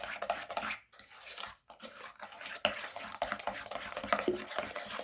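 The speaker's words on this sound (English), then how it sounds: "Mix the eggs in there well." A spoon stirs eggs into a cooled melted-butter chocolate fudge brownie batter in a bowl, giving soft, continuous scraping and sloshing with brief pauses and occasional light clinks against the bowl.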